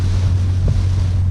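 Strong wind buffeting the microphone on the Myrtle Beach coast the day after Hurricane Florence, a steady loud roar with a low hum underneath and a brief thump near the middle.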